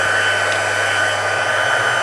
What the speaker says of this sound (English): This is called the heat gun.